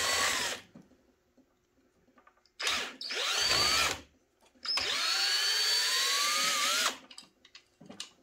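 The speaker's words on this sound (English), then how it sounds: "we'll grab a power tool to do the first couple of them." A power drill whirs in three bursts while removing long screws from a Losi DBXL RC car, each burst rising in pitch as it drives, separated by short pauses with faint rustling between.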